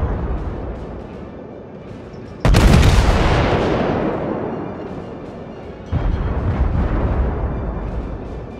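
Warship main guns firing in the video game World of Warships: two loud booming salvos a few seconds apart, each a sharp blast trailing into a long rumbling decay.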